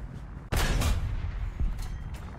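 A tank cannon firing in War Thunder, on an American T14 heavy tank: one sudden heavy blast that stays loud with a rumbling tail, then a smaller thud partway through.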